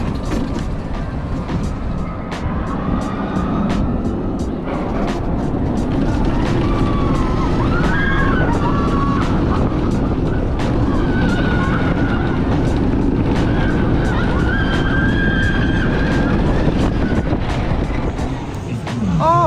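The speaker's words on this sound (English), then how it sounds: "time for my first ever bobsled coaster here, Tres de Jara" A bobsled roller coaster ride at Parc Asterix in France, heard as a steady loud roar of wheels rumbling along the track for the whole stretch, with rising and falling whines and faint rattles on top and no talking.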